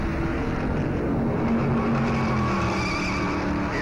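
Stock race cars at the 1957 Darlington Southern 500 roar past in a dense, continuous rumble, loud and steady throughout with a droning engine tone and no talk over it.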